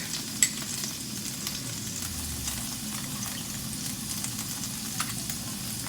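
Garlic fries in a little hot oil for a stir fry, a steady close sizzle with a few light clicks of utensil on pan and no talk.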